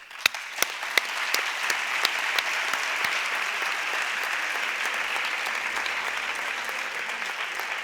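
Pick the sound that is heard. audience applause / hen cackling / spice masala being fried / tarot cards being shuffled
audience applause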